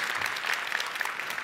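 Keynote audience at a large tech conference applauding, a dense, even wash of clapping from a big crowd lasting a moment without distinct cheers.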